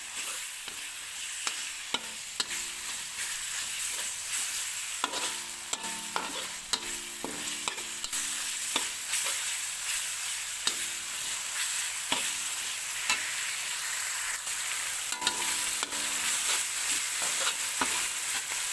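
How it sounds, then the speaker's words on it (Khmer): Pork stir-fried in a pan for a Cambodian kaphrao-style dish, a steady close sizzle of frying with repeated scraping and stirring strokes of a utensil against the pan, no talking. "ហើយយើងឆាឲ្យសាច់ជ្រូកនឹងឆ្អិនដាច់ទឹកស្ងួតទឹកបន្តិចសិនណា"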